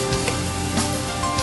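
Pork frying in a pan for a Filipino dish, giving a steady close sizzle with a soft crackle throughout, and no talk over it.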